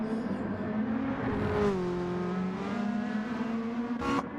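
Super GT race cars lap Suzuka in a racing game, with a loud sustained engine drone whose pitch dips and climbs as the cars shift and accelerate, and a brief sharp burst near the end.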